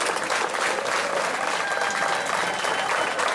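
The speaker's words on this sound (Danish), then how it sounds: "Så vi giver et stort bifald til de to seje 10 km løbere." A festival crowd in Godthåb claps for two 10 km runners, producing dense, sustained applause from many hands, fairly close and steady throughout.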